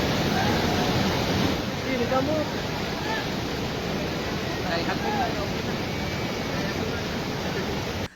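A swollen river rushes loud and steady in a broad, continuous roar of turbulent water during a rope rescue, with no break across the whole stretch.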